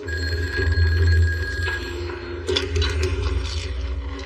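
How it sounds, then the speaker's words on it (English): A telephone at a police dispatch center rings with a sustained electronic bell tone, loud and close, followed by a few clattering knocks; no voices. "The phone rings from the dispatch center"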